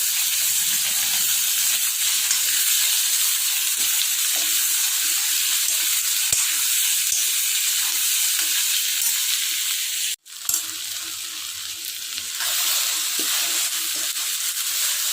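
Onions and okra frying in a pan give a loud, continuous close-up sizzle and hiss, briefly cut off by a sharp break near the end before the frying noise resumes at full strength.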